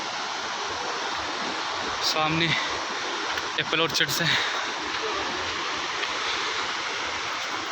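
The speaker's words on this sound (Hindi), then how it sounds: "नदी साथ साथ चल रही होगी" A mountain river rushing beside a trail on the Shrikhand Mahadev route, a broad steady roar of flowing water, with a person speaking briefly over it midway.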